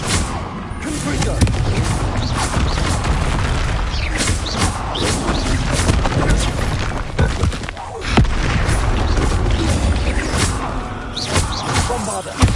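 Explosive blasts and rumbling booms from the Confringo spell in a wizarding game, loud and continuous, with repeated impacts and mechanical clatter amid shouted spell names.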